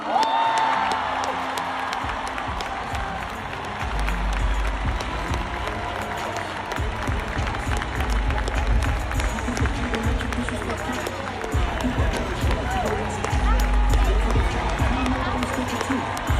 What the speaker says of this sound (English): the crowd erupted for Kendrick's well-deserved win